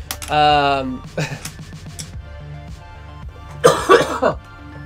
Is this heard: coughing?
yes